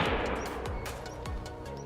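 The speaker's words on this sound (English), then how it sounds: "Was that a gunshot?" Gunfire in the hunting game theHunter: Call of the Wild, set in a Nepal hunting reserve: several sharp, distant shots crack out at irregular intervals over a steady outdoor ambience, with no talking.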